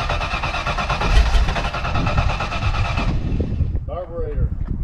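A cammed Foxbody Mustang V8 running cold on its carburetor, a loud, close, lumpy rumble with a choppy idle that drops off near the end, with voices talking over it.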